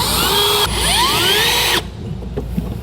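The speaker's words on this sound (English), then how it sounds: "I'm just going to use a little pilot bit here." A power drill spins up and bores a pilot hole into a 2022 Ford F-250 truck bed, a steady high whine with rising tones for about two seconds before cutting off abruptly, leaving faint clicks and quiet afterward.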